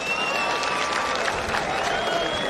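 Steady crowd applause from residents turned out in Eldoret to watch Kipchoge run, sustained clapping throughout with faint crowd murmur beneath.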